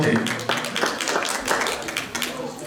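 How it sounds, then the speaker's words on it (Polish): Warm applause from the audience at a charity concert auction as a football shirt is sold, a short burst of clapping heard under the auctioneer's voice. "gorące brawa"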